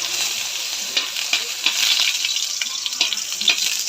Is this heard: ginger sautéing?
yes